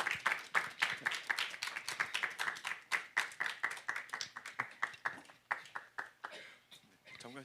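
Audience clapping in a lecture hall at a humanities conference as a professor is welcomed to the stage, rapid rhythmic claps from a crowd, fairly close and steady throughout.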